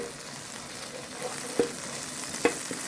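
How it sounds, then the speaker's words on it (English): Fresh and used cooking oil sizzling together in a pan, a steady close hiss with two distinct clacks of a utensil being stirred through it. "I make sure that the new oil mixes with the old oil"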